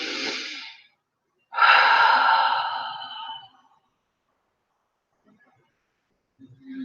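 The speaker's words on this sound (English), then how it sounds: "taking a deep breath in" A slow, deep breath drawn in, soft and close, preceded by a shorter exhale and followed by silence, during a guided relaxation with no speech.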